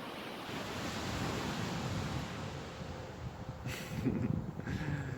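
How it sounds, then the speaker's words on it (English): Ocean waves washing onto a beach, a broad rushing surf with gusty wind buffeting the microphone, swelling louder toward the end. "check out the beach. It's so beautiful."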